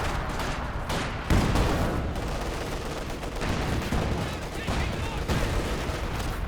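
Weapon fire in a Company of Heroes 2 match rattles through busy, continuous battle noise, with bursts and booms layered close together and someone commentating over it.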